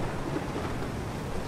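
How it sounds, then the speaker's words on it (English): Steady rain with low rumbling thunder in the Sea of Solitude video game, a dense continuous wash of rainfall with no voices. "How it's just like raining too. You see like the raindrops, the lightning from the sky."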